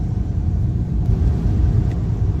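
A car pulls away on a muddy, snowy road, its low engine rumble steady and fairly loud throughout, with no voices.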